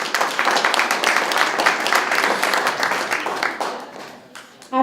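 An audience applauds after people share personal testimonies, a dense round of clapping that holds steady and then thins out and fades near the end.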